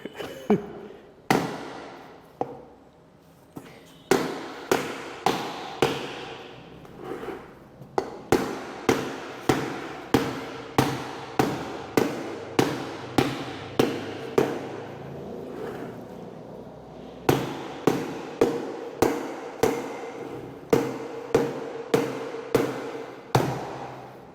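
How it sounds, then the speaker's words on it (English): Sharp, loud kitchen-hammer taps strike a plastic bucket lid again and again, tapping it shut, in a steady, rapid rhythm, with a few short pauses between bursts, close up. "I might need a hammer. Let's see. I happen to have a kitchen hammer."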